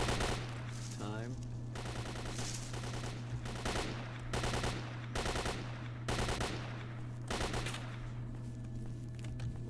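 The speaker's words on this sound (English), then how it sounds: "Were you shooting at me?" Gunfire in the video game S.T.A.L.K.E.R.: Shadow of Chernobyl, a string of loud separate shots in irregular bursts over a steady low hum, with a voice talking briefly in between.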